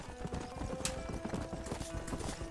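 Steady clip-clop of a horse's hooves in Red Dead Redemption on PS3, trotting continuously at close range with a brief bright accent partway through and faint background ambience.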